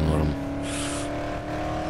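A car speeds along in the video game Dead Island, its engine revving in a loud sustained drone under in-game effects, while players talk over it.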